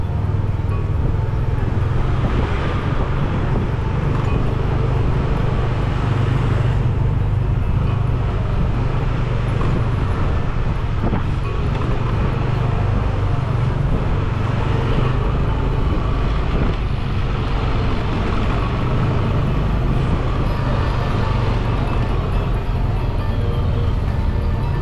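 Car driving along Benesari Street in Kuta, Bali, with steady engine and road rumble and passing traffic, a continuous close drone with occasional swells from nearby vehicles.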